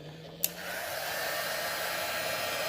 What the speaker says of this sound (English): I got out the old heat gun. I'm gonna move it around a little bit